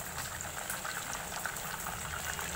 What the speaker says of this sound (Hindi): अब हम इसे गरम तेल में छानेंगे।